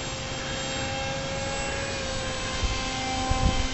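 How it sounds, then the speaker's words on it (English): A Sky Surfer radio-controlled model airplane on its maiden flight gives a steady, droning motor whine at a constant distance, with a few faint low bumps near the end. "this is Seth and his new Sky Surfer about to make a maiden"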